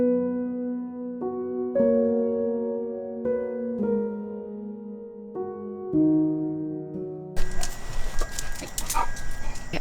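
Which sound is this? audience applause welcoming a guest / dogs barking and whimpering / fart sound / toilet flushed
dogs barking and whimpering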